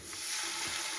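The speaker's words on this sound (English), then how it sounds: "I'm going to saute this. I'll keep the flame a little bit low." Salmon curry base for Kerala-style fish curry sizzles and crackles steadily in a pan over low flame, a continuous close frying hiss with no talk.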